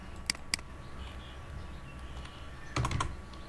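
AutoCAD commands typed on a computer keyboard, a few sharp key clicks early and then a quick burst of keystrokes near the end ending in an Enter press, close and clear over a quiet room hum.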